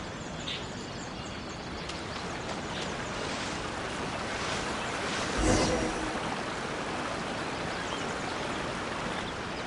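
Small waterfall in the Genshin Impact video game, a steady rushing wash of water that briefly swells in the middle, with no talking.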